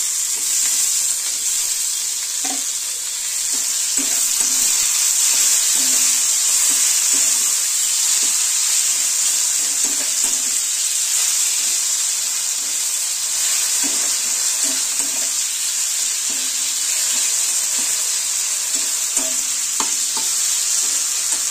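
Chopped tomatoes fry in a pan, a loud continuous hiss of sizzling oil close up, with intermittent soft spatula scrapes and stirring clinks across the whole stretch.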